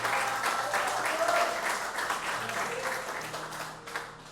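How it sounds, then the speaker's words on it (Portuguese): Church congregation applauding during a sermon, a loud, dense wash of clapping that swells and gradually fades, with voices and cheering mixed in under the applause. "Pode aplaudir mesmo"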